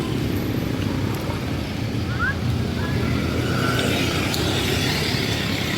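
Steady road traffic rumble with passing cars and motorcycles, continuous and moderately loud, heard around a residential area near Santiago Homes, with no talk over it.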